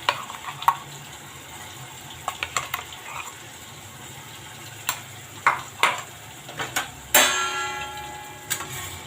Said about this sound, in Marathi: तर मसाला परतून घेऊ आपण।